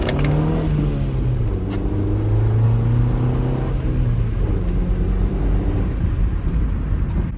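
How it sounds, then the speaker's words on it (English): Honda Civic EJ6 LX with its stock OEM exhaust, revved to about 4000 rpm in first gear, a fairly quiet, close engine hum that climbs and wavers in pitch, heard from the cabin with no talking. "I'll do a quick little rip in the EJ6 just so you guys could hear how much quieter it is now"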